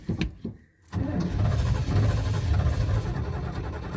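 A 1974 GMC pickup truck engine cranking over, a brief starter burst and pause followed by a sustained, fairly loud mechanical churning close by.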